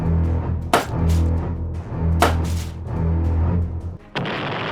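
Deep rumbling explosions in a video game roll through continuously, punctuated by a few sharp cracking blasts, ending in a burst of harsh noise.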